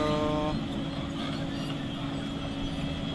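A road compactor works a street being paved in Miruk Pango, Banda Aceh, giving a steady low engine rumble with a brief tonal hum at the start.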